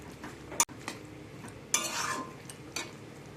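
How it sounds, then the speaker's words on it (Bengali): A spoon clinks and scrapes against a pan while soybean chili is stirred together with salt and sugar, giving a few sharp taps and a longer stirring rasp, fairly quiet. "এই সব কিছুকে ভালো করে মিক্স করে নেব"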